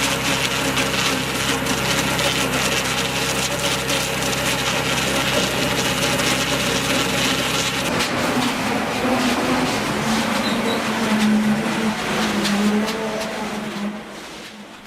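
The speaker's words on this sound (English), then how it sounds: "the 48-inch Mellett LMR operates on that exact same principle. High-speed rotating scraping blades shave off only the thin outer layer of bark" A 48-inch Mellett LMR ring debarker at a large sawmill, its high-speed rotating scraping blades shaving bark off logs, gives a dense mechanical grinding and rumble that runs continuously and eases off slightly near the end.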